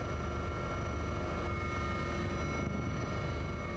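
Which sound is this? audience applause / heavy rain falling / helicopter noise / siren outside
helicopter noise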